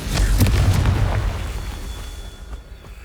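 Confringo spell blast in Hogwarts Legacy: a loud, booming explosion right at the start with a crackling burst, decaying over a few seconds into a rumbling tail.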